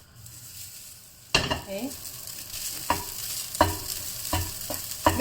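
Laksa fried rice stir-frying over high heat, with steady sizzling and repeated scraping strokes of a spatula against the wok at a fairly regular rhythm, close and clear, with a brief spoken word.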